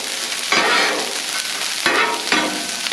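Teriyaki salmon sears on a hot griddle, giving a loud, steady sizzle that flares in bursts as pieces are moved and pressed, with no voices.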